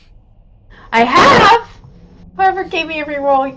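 One sharp, loud sneeze bursts out near the mic during a tabletop role-playing game session, preceded by quiet room tone and followed by people talking.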